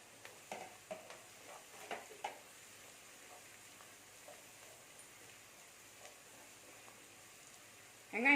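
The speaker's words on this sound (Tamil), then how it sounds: "வெங்காயம் வதங்கிட்டு இருக்கு கொஞ்சமாக கருவேப்பிலை" Onions and curry leaves sautéing in a pan, a quiet sizzle with a few soft stirring scrapes early on, faint and steady before a louder clatter at the very end.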